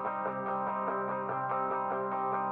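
A strummer plugin plays dry chords with no effects added, a steady loop of repeated strummed attacks with sustained harmonic tones throughout.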